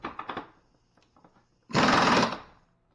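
A motorcycle axle nut is loosened in a shop, first with a few quick ratchety clicks, then a loud, close burst of a power tool spinning the nut for about a second.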